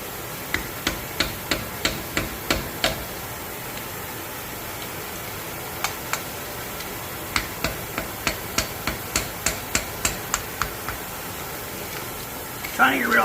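Hammer blows knocking welding slag off a weld during a police interceptor teardown, a series of sharp metallic taps in irregular bursts over steady shop background noise.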